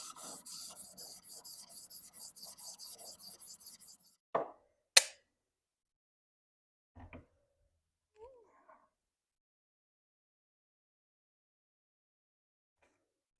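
A blade is stroked across a 1200 grit sharpening stone in a quick, even run of soft rasping rubs, then the strokes stop, followed by a couple of knocks and small clunks in near silence.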